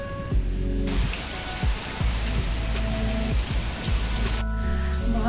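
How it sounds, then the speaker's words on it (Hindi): Heavy rain pours down in a steady, dense hiss that starts abruptly, holds strongly for several seconds, then cuts off. Scattered clicks and drips sound nearby. "बहुत तेज बारिश आ रहा है जैसे कि आपने देखा."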